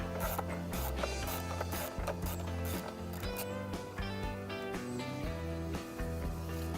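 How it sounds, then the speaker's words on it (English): A 13mm wrench loosens the battery hold-down bolt on a 1998-2015 Volkswagen Beetle, with steady mechanical ratcheting clicks in fairly close, continuous rhythmic runs over a few seconds. "loosen the bolt for the battery hold-down bracket, and you'll need a 13mm wrench for that"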